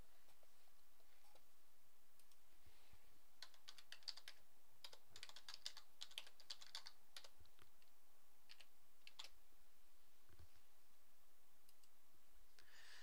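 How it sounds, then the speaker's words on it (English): Someone types a college Canvas login page address on a computer keyboard: a quiet, irregular run of soft key clicks, denser in the middle, over faint room hiss and without talking. "I will type the URL for my college's Canvas login page now, and then press Enter on my keyboard."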